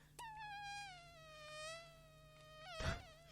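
A person imitates a mosquito with a thin, whining buzz that wavers in pitch for a few seconds, fairly close and quiet, then ends in a short breathy burst.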